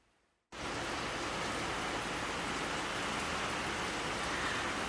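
Heavy tropical downpour in Martinique, a dense steady roar of rain that starts abruptly after a brief quiet moment and stays loud and unbroken, with no voices.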